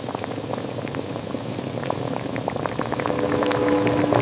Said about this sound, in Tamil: கொதிக்கும் நீரில் இந்த பொடியை சேர்த்து நன்கு கொதிக்க விடுங்கள்.